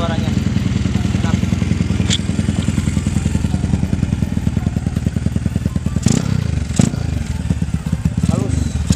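A Honda CB motorcycle, a CB GL100-based custom, runs with a steady mid-pitched engine rumble, close and continuous, with a few sharp clicks and knocks over it and a voice talking now and then.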